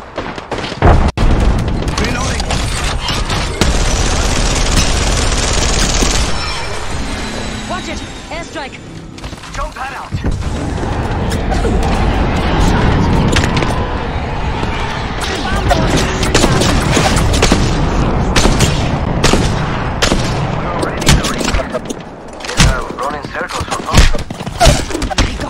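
Sustained gunfire and heavy booms from Apex Legends combat in Season 10, loud and dense throughout, with bursts of shots and impacts under game voice lines.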